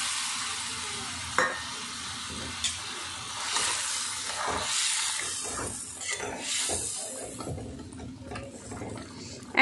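Fried prawns go into a simmering malai curry, giving a gentle bubbling sizzle with a few sharp clicks and spoon scrapes, building slightly as the pieces are stirred in, close and moderately quiet.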